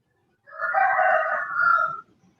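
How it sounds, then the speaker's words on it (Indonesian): A rooster crows once nearby, a loud, drawn-out call lasting about a second and a half and heard alone against a quiet background. "Nah, ayam sudah berkokok ya."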